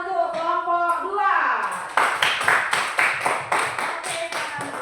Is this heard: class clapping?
yes